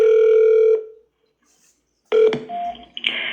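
Telephone call to a 911 emergency line: steady electronic dial or ring tone for under a second, a pause of silence, then a burst of tones and line noise, loud and close with no talk.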